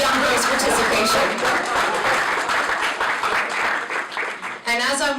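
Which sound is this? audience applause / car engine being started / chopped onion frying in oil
audience applause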